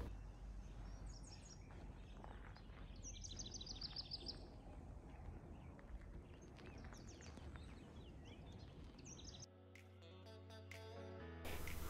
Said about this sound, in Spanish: escucha el sonido de los pajaritos.